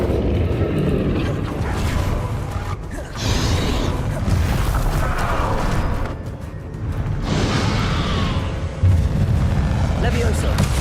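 Spell explosions in the Hogwarts Legacy video game, booming blasts with rumbling crashes that repeat several times over a steady game soundscape, with talking underneath.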